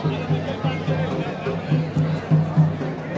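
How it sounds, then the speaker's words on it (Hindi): Large crowd of pilgrims at the Baba Baidyanath temple, a close, dense hubbub of chatter and voices with rhythmic low thumps, people talking nearby throughout. "ज्यादा भीड़ है"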